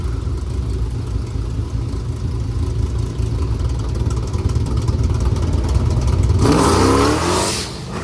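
Mustang drag race car roars at full throttle down the quarter-mile track, a loud, dense engine blare holding steady before rising sharply in pitch near the end as it pulls hard.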